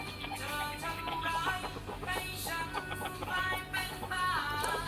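Fighting cocks cluck and call repeatedly in a busy, overlapping stream of short harmonic squawks over a steady low background hum, fairly close and continuous throughout.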